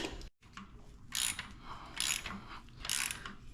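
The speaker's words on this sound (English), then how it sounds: "I just got these little ratcheting box wrenches, a little set of them." Small ratcheting box wrench turning bolts while removing the front suspension on a Datsun 521 diesel 4x4, heard as three bursts of rapid close clicking, repeating roughly every second.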